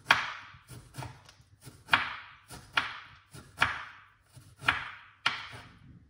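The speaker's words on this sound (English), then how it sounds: "slice up the lime" A knife slicing a lime on a cutting board: seven or eight sharp, evenly spaced chops, each a crisp knock with a short fading tail, close and distinct against quiet.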